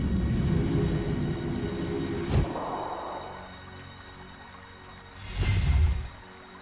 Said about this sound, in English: Call for that tram.